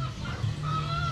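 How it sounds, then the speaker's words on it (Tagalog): Chickens cluck softly in a small backyard coop, a low steady hum running beneath the faint, continuous fowl chatter. "Yan ang aking munting manukan"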